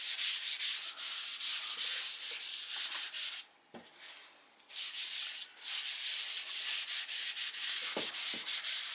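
A cloth rubs tung oil into a homemade wooden cutting board with steady, close, rhythmic swishing strokes, pausing briefly midway before the scrubbing resumes.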